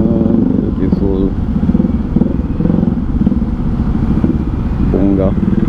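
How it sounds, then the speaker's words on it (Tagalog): A black Yamaha R15 v3 motorcycle engine runs steadily nearby with a low, even rumble while a person talks over it throughout. "Ang motor yun nasa likod ko."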